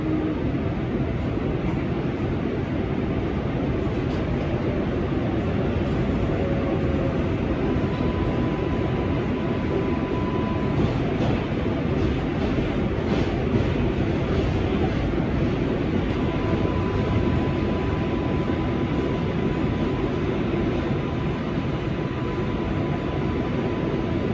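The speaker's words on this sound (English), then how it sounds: "Manhattan-bound 7 Express train." Loud, constant rumble and roar of an R188 7 Express subway train on the New York IRT Flushing Line running at speed, heard from inside, with faint high whines and squeals drifting through.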